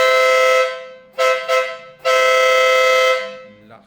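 A Denali SoundBomb air horn fitted to an ADV 350 motorcycle sounds three loud, close blasts: a long one, two quick short toots, then another long blast.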